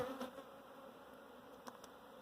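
Honeybees buzz in a faint, continuous drone around an opened hive with brood frames, with a few brief sharper passes close by.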